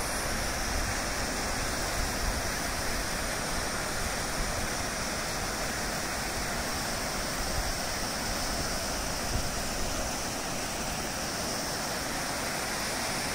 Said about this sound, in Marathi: धबधबे आणि छोटे छोटे खळगे अलीकडे पाणी साठवलेले आहे।